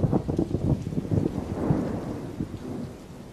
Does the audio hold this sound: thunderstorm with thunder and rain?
yes